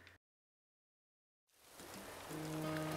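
Steady rain in Animal Crossing: New Horizons, starting after a short gap of silence as a soft, even hiss that gradually thickens, with a faint tonal game sound joining near the end.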